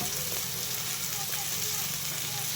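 Eggplant slices frying in hot oil give a steady, dense hiss and crackle with no pauses, close and moderately quiet throughout.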